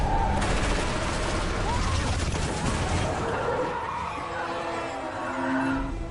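A sustained burst of film gunfire, dense cracking shots mixed with skidding tires and vehicle noise, loud and chaotic for several seconds before thinning out toward the end.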